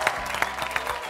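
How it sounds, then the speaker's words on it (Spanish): Studio audience applause on an Argentine television talk show, a brief burst of dense clapping with a few sharper claps standing out, moderately loud and continuous. "Un aplauso para Titi Fernández."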